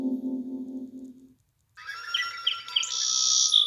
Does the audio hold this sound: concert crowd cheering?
no